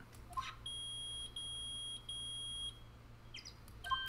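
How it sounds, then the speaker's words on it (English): A metal detector in the Ace Attorney video game gives off a run of piercing electronic beeps, three long steady tones at a regular rhythm, then shorter chirps, over a quiet background hum. "It's beeping! The metal detector's found something."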